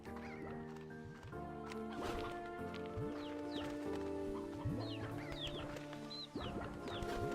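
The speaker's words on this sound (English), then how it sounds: "Oh, I need to get these old chickens out of here." Chickens in a video game cluck in repeated short, squawky bursts over a steady backdrop of sustained game tones, moderately loud and close.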